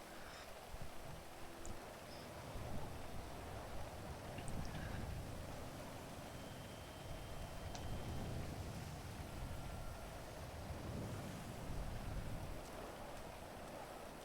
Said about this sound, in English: So I just currently sat out in the rain.